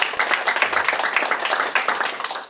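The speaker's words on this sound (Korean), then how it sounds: "우리 오늘 고유봉 교수님 잘 이렇게 진행해 주십사 하는 박수 한번 좀 부탁드리겠습니다." An indoor audience at a 2025 safety-culture seminar gives steady, dense applause. Many hands clap at once, fairly close and loud, for the whole stretch.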